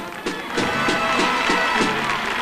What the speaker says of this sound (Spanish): Está sonando una ovación